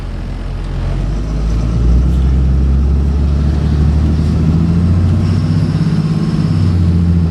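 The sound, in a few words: 2005 Ford F650 rollback flatbed truck engine running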